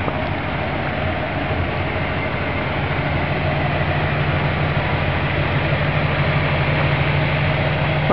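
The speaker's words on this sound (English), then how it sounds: "And both their engines are running." A 1961 Chrysler New Yorker and a 1958 Ford Prefect 100E idle side by side at night, giving a steady, continuous low engine rumble with no talking.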